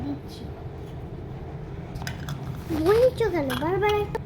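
A metal lid clatters onto a pan of frying bitter gourd with a few clinks, then a voice speaks briefly nearby.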